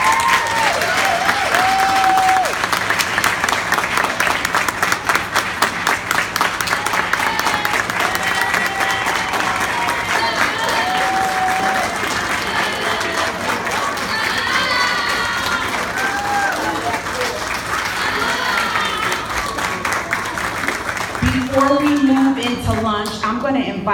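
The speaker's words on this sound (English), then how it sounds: "Please join me in a round of applause." A graduation ceremony audience for a CNA nursing assistant class gives sustained loud applause with cheering and shouts for most of the stretch, a few voices rising above the clapping before it fades and someone speaks.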